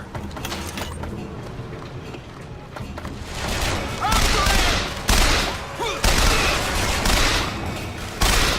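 Gunfire in the video game BioShock Infinite, a dense stream of rapid shots and heavy bursts that grows louder and busier partway through, with mechanical clanks mixed in and a voice talking between the shots.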